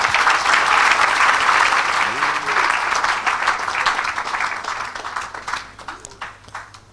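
Congregation at a church service applauding loudly and steadily, a dense wash of clapping that gradually thins and fades, with voices mixed in underneath.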